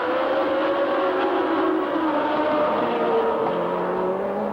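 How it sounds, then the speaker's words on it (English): Some 32 racing car engines roar together at the start of the 1978 Canadian Grand Prix, a dense, continuous blare of high-revving engines with pitches sliding as the cars pull away. "lost in the roar of 32 screaming engines as the 1978 Canadian Grand Prix is put in motion"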